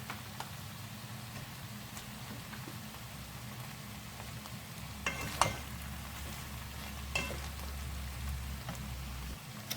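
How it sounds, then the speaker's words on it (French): Whole shrimp sizzle in a paella pan, a steady, close frying hiss with a few brief clatters from stirring. "Je vais mettre mes crevettes, je les mets en entier."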